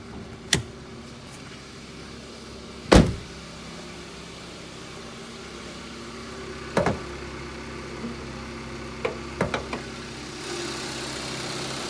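A 2017 Hyundai Accent SE sedan engine idles under the open hood, giving a quiet, steady low hum throughout, broken by a few sharp clicks and taps.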